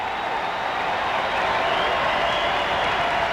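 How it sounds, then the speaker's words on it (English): A baseball stadium crowd roars steadily as a bases-loaded, two-out seventh-inning at-bat unfolds in a 1995 Angels versus Mariners game, with a dense, continuous wash of cheering and applause. "This crowd getting into it a bit."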